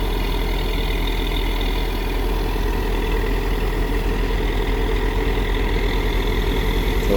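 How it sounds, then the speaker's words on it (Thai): A road roller's engine running at idle after starting, a loud, steady, low diesel rumble that holds evenly throughout, close by with no voices. "ติดเครื่องแล้ว"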